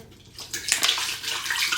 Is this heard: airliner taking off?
no